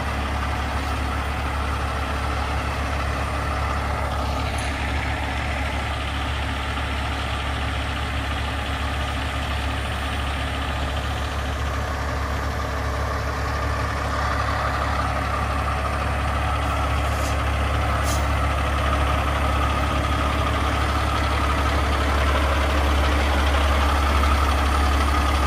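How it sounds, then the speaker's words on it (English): A tow truck's engine idles steadily nearby on a residential street, a loud, constant low rumble that holds unchanged throughout with no other sounds rising above it. "I gotta wait for this tow truck to move out of the way"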